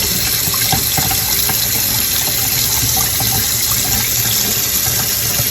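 Tap water runs steadily from a faucet over a mineral specimen at a sink, a loud continuous splashing gush that fills the whole stretch with no talk.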